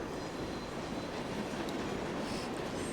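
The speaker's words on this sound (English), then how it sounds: "Train noises." Train noise in the video game 428: Shibuya Scramble, a steady broadband rumble of rolling rail cars with faint high squeals, continuous and even.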